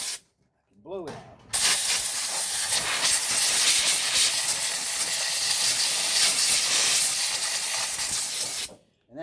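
Loud, steady hiss of compressed air from an air compressor blowing debris out of a power tool, a continuous close blast lasting about seven seconds, with brief quieter handling sounds before and after.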